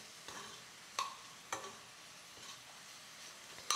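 Garlic dropped into hot ghee in a pan gives a soft, quiet sizzle, broken by a few sharp clicks and taps from stirring spaced a second or so apart.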